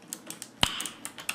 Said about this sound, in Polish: Posłuchajcie tylko tego dźwięku z tych klawiatur.